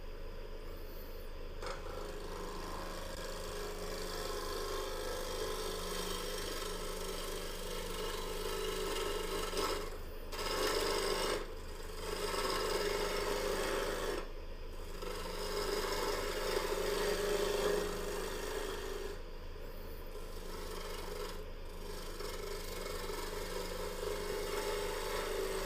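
A woodturning lathe spinning at about 1500 RPM as a tool cuts flat spots off a three-sided wooden bowl, a continuous scraping rasp over a steady motor hum, briefly interrupted several times as the tool lifts off.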